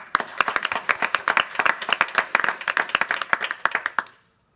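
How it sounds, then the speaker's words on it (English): A small group claps at a school board meeting after students are recognised for a television news award, the claps sharp, close and fairly sparse, ending abruptly. "Let's give them a round of applause."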